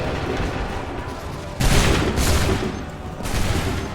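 Ragged musket volleys crash out in an Assassin's Creed III battle, several loud bursts of massed gunfire rolling together with a lingering rumble between them, close and dense.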